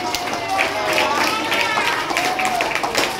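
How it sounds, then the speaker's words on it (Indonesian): Children in a classroom clap their hands together in a brief burst of quick, uneven applause, fairly close and lively, with young voices mixed in among the claps. "Tepuk tangan dong."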